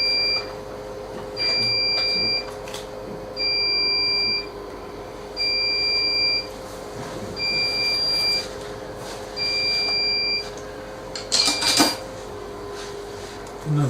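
Steady electronic beeps repeat in a regular on-off rhythm, each lasting about a second, over a low background hum, with a brief clatter near the end.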